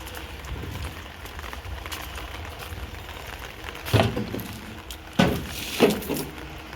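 Light, steady unseasonal rain in Mandvi making a soft continuous patter, broken by three louder knocks near the end.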